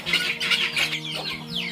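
Backyard chickens, including a laying hen and a young rooster, cluck and call in a steady overlapping chatter, fairly close and moderately loud with no talk.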